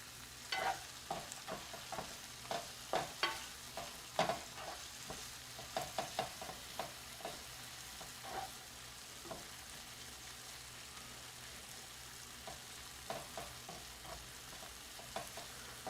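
Garlic frying in a pan while cooking shrimp pasta, with a soft steady sizzle and scattered clinks and scrapes of stirring, fairly faint with no talk.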